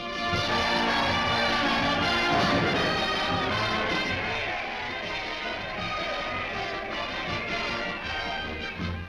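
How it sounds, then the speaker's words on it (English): A crowd in a WWII-era cartoon cheers for a returning soldier, with dense, loud, continuous crowd noise and a brass-band flavour throughout. "Look at that crowd."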